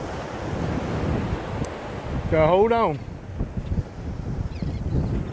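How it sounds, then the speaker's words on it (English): Waves and wind buffet a moving fishing boat off Fourchon, a steady rush of surf and wind noise filling the whole clip, with brief speech and a loud whistling cry over it midway. "Them waves will pick you up and almost tilt you over if it catches right."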